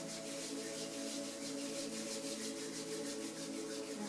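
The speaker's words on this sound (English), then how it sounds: "Rub your palms together" Palms rubbing together in a yoga session, a soft, steady swishing friction with a gentle back-and-forth pulse, close and continuous, heard alone.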